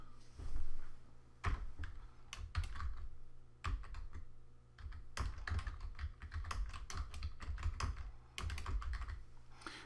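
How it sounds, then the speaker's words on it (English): Rapid typing on a computer keyboard, a dense run of key clicks in bursts with short pauses, close and clear, no voices. "Now you could hear me typing there"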